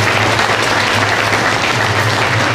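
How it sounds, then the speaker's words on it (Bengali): Sustained applause from an audience at an RCM celebration program in a guest house hall, steady dense clapping filling the whole stretch without a break. "আমাদের সুন্দর সিস্টেম জায়গা জোর করে হাত তালি দিন"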